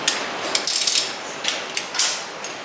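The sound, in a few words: tightening Honda Talon X wheel lug nuts to torque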